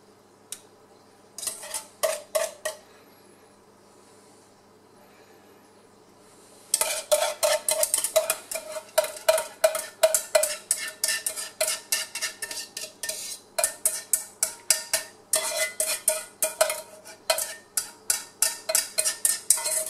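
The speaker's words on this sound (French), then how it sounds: "Je la remue un petit peu histoire d'homogénéiser." Lemon tart filling stirred in a pan with a utensil: a few scattered scraping clinks at first, then a steady run of quick, rhythmic strokes against the pan, close and fairly quiet.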